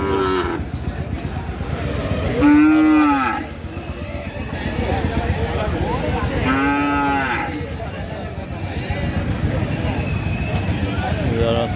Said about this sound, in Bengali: এটা কি হলিস্টিন ফিজিয়ান গরু